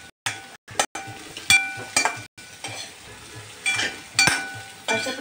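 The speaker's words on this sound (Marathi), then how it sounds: "वांगी पण चांगली परतून घ्या तेलामध्ये" Eggplant pieces stir-frying in oil for a stuffed masala dish, with a steady sizzle broken by repeated clinks and scrapes of a spoon against the pan, close and fairly loud.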